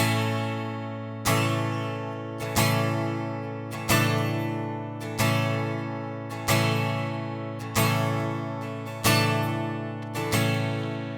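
An acoustic guitar is strummed with single down-strokes on beats one and three, nine even chords ringing out and decaying between strikes, with no voices.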